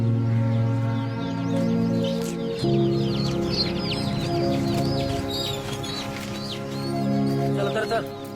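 Chickens cluck in a rural scene from a Marathi film, several birds clucking close by over a steady layer of music, with a brief voice in the mix.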